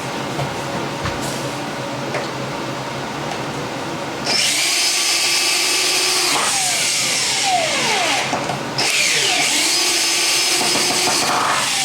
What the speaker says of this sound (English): all I have to do is tighten the screws off